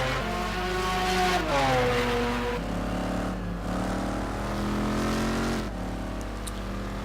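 An Aston Martin race car with a big V12 engine, in a racing sim game, wails loudly and steadily, its pitch climbing and dropping through several gear shifts.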